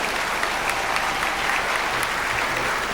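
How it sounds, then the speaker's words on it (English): Dense, continuous applause from a large audience, steady and loud throughout with no pauses. "Round of applause for Caitlin, everybody."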